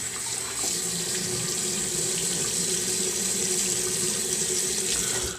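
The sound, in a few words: water running from tap while shaving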